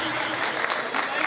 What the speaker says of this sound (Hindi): एक दफा फिर जोरदार तालियां